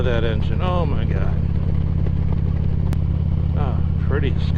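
A motorcycle engine drones steadily and close while riding, a constant low rumble with wind noise throughout, while a rider talks over it in bursts.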